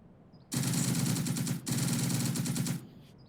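Sustained automatic gunfire from units firing in a WWII war video game, Second Front: The Blitz, a dense loud burst of about a second with a short break, then another long burst that cuts off abruptly.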